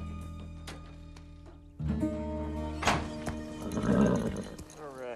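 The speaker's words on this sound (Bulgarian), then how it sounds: "Спокойно ще държа коня." A horse on a ranch gives a whinny under a steady background hum, followed by rustling and a few soft thuds nearby.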